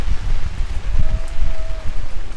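Rain falls steadily at an outdoor gathering of mourners, a dense patter with low rumbling gusts and a faint distant tone drifting through.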